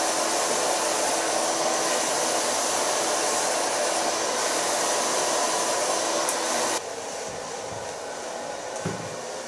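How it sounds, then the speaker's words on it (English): A hair dryer blows steadily and loudly on hair at close range, a continuous rushing airflow that drops to a lower, softer setting partway through with no talking. "But first I'm gonna dry her hair."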